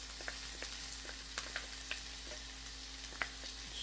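Cumin seeds and garlic frying in hot oil in a home kitchen, a faint steady sizzle with small scattered pops and crackles over a low constant hum.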